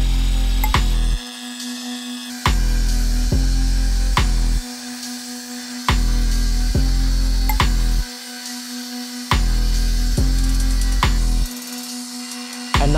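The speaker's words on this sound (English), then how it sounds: "armed with an angle grinder, I ruthlessly started dismembering the monumental slab." Angle grinder cutting apart a large stone slab into separate pieces, a loud close whining drone in repeated bursts, each cut dropping briefly to a lower idle before the blade bites again.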